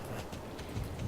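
Hooves of a white horse in Star Stable Online clop in a quick, steady rhythm for about a second, close and moderately loud, with no voices.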